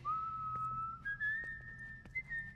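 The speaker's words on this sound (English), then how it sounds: "How do you do that? What, whistle?" A character in The Last of Us: Left Behind video game whistles a sustained, wavering tone that steps up in pitch, clear and close over a quiet, low background with faint clicks.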